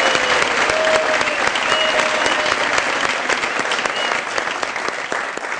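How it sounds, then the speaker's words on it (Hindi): A studio audience at a comedy show applauds loudly and steadily, a dense continuous wash of clapping that fades slightly toward the end. "बहुत सारी तालियों में जमशेद इरफान बाबरी साहब।"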